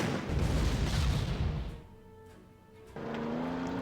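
A heavy boom from an anti-tank cannon firing in the strategy game Panzer Corps, loud at the start and fading into a rumbling tail, followed by a renewed mechanical drone.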